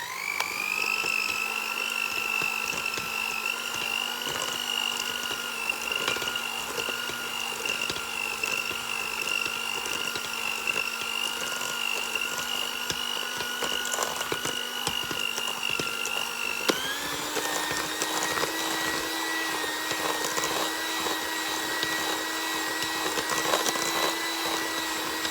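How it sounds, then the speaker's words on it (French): An electric hand mixer beats almond tart batter, giving a steady high motor whine that steps up in pitch partway through as the speed changes, loud and continuous with no talk. "on va battre au batteur."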